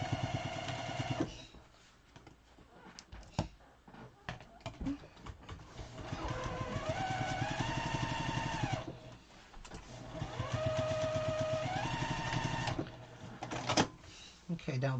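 Sewing machine stitching quilt pieces: two long runs of steady mechanical whirring, each several seconds, separated by handling clatter and quiet pauses, with a person speaking intermittently.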